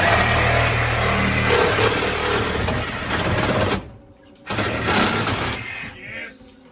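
Sawzall reciprocating saw cutting through plumbing during a house renovation, a loud, close buzzing drone that cuts out briefly and then resumes.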